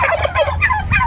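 A turkey gobbles in a rapid rattling burst, loud and close, repeated through the short stretch with no talk over it.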